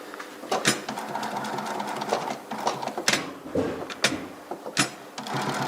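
An industrial sewing machine stitches the eyelet strip of a classic running shoe, running in close, rhythmic bursts of rapid mechanical clatter broken by short pauses.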